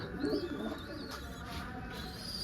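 Pigeons coo softly from a loft holding young and sick birds, low murmuring calls under faint background noise with a few thin chirps.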